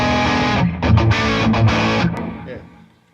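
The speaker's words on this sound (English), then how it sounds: "So if you want any of those tones, all you need to do is get a Plex distortion" Electric guitar played through a Plex distortion pedal gives a loud, heavily saturated tone of several chords and sustained notes with brief gaps, then fades out; no talking over it.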